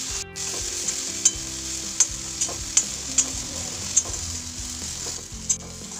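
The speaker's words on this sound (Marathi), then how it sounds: "आता आपल्याला कांदा थोडासा भाजून घ्यायचा आहे।" Onion frying in a pan with asafoetida, a continuous close sizzle broken by regular sharp clinks of a spoon against the pan as it is stirred, about once every second.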